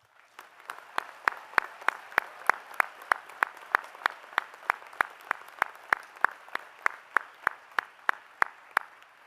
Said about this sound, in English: let us take a moment to applaud these graduates for all that they have achieved